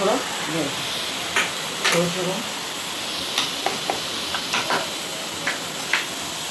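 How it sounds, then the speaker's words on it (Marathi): Oil heats in a pan at home for frying onion bhaji, giving a soft constant sizzling hiss with scattered light clicks and stirring sounds, while a voice murmurs briefly at the start. "इकडे आम्ही तेल उकळायला ठेवलं आहे"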